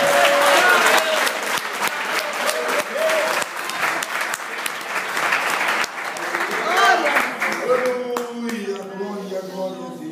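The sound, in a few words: church congregation applauding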